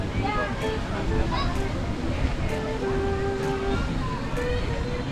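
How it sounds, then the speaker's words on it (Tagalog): Stream water flows steadily outdoors in the DRT countryside with a continuous rushing wash, while voices talk intermittently over it. "Ang daming batis tsaka ilog dito sa DRT."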